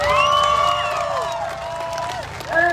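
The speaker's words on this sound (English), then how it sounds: "Let's give her another round of applause, y'all." A crowd at an outdoor protest rally erupts in applause and cheering, with loud whoops and whistling voices riding over a steady wash of clapping.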